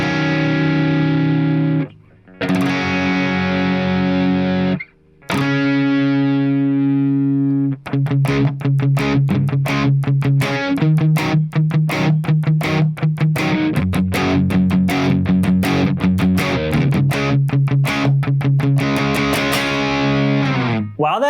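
An electric rhythm guitar through heavy distortion plays sustained power chords, then switches to fast, tightly chugging palm-muted power chords in a driving, steady rhythm, loud and up close for the whole stretch.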